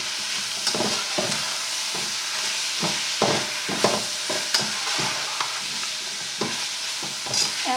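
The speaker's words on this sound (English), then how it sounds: "we're going to let this cook on high heat for about 10 more minutes so that all these flavors can just get mixed together" Fajita filling sizzles loudly in a pan over high heat, a steady bright hiss broken by repeated scraping and stirring knocks, close and with no voices.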